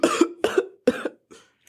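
A person coughs hard in four or five harsh, close bursts in a quick series, each fit trailing off, with no talk over them.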